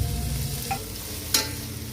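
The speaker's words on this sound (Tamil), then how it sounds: "தக்காளி ஆட் பண்ணிக்கங்க. தக்காளி நல்லா வதங்க விடுங்க." Tomatoes sauté with ginger garlic paste in a pan, a steady low sizzle with one light tap and a single sharp spatula scrape near the end.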